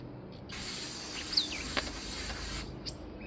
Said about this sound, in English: I'll put a little brake clean through it next just to dry it out a little bit